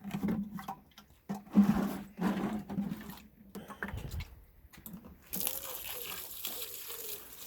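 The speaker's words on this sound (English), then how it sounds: "Let's just water these in. Give them a little old drink." Garden plants are soaked from a watering can with no rose fitted, giving uneven splashing and pouring bursts with pauses, then a steadier hiss of water near the end.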